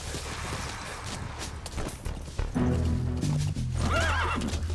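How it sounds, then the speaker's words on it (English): A horse in Metal Gear Solid V whinnies with a rising, wavering neigh while hooves clip-clop and thud loudly nearby, dense footfalls throughout, with faint background voice. "Alright, look, the horse jumps!"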